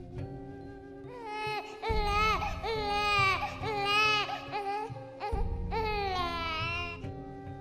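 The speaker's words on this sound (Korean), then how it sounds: "텐트 주변에서 아기 우는 소리가 들리는 거예요" A baby crying around a tent at night, heard as a creepy sound effect: loud, close, wavering wails in two long bursts over a low, steady background drone.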